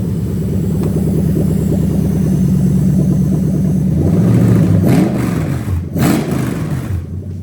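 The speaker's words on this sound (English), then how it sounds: "Let's give it a bit of a rev so you can actually see that it goes up and down." A Toyota UZ-FE VVT-i V8 fitted in a Lexus IS200 idles steadily, then is revved, with the engine note rising and falling through two close blips before settling, loud and near.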